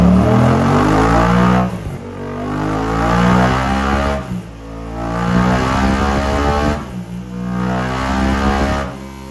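A 2025 Yamaha MT07 with a drop-in air filter and flashed tune revving on a dyno: three loud, rising engine sweeps, each climbing in pitch, then cutting off with a short pause before the next.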